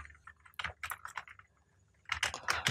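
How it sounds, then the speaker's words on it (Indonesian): Quick irregular clatter of computer keyboard keys being typed nearby, a brisk burst, a short pause, then another run of keystrokes, fairly quiet. "Kita ketikkan require"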